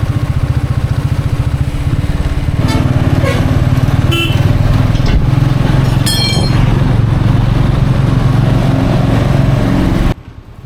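Royal Enfield 350cc motorcycle being ridden on a road in Sri Lanka, its single-cylinder engine thumping loudly and steadily with a constant rumble, a few brief higher clicks and chirps over it, cutting off abruptly near the end.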